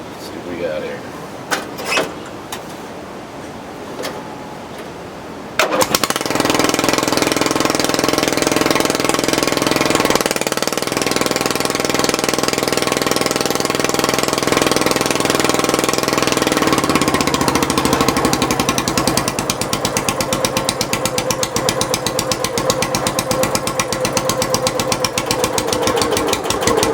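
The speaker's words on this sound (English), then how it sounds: "idles much lower with this new exhaust." A Craftsman LT lawn tractor engine with a custom-fabricated exhaust starts after a few clicks and runs on, a loud close steady rumbling idle that settles lower after about twenty seconds.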